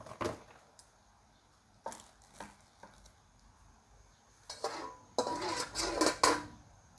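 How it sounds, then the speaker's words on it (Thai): Metal utensil clatters and scrapes against an oiled wok while shrimp and squid stir-fry for instant noodles with chili paste, with sporadic knocks early on and a busier burst of clanking and sizzling near the end. "เราก็เอาน้ำมันนะคะใส่กระทะ แล้วเราก็จะ ลวนกุ้งก่อนนะคะทำให้กุ้งกับปลาหมึกอะเขาสุกก่อน"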